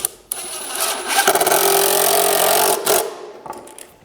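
A power drill drives screws into a wooden stool frame, giving one steady, loud whirring run of about two and a half seconds before it stops, with a few short clicks around it.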